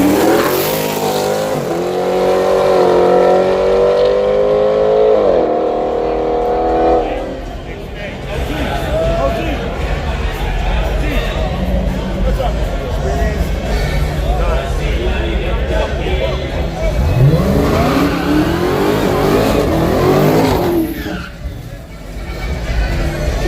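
Drag racing at Yello Belly Dragstrip, with a Joker and a Hellcat lined up: loud engines rev and roar up close, one pitching upward in a sharp run, then a throaty rumble and another rising engine surge near the end.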